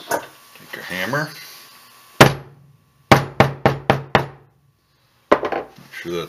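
Sharp hammer blows on a leather wallet freshly glued with contact cement: one strike, then a quick run of five taps, then another pair, each crisp knock ringing briefly in a quiet room.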